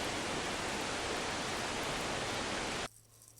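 Waterfall in the Godzilla x Kong: Titan Chasers video game, a loud, steady broadband rushing roar that cuts off abruptly near the end, leaving a faint low hum.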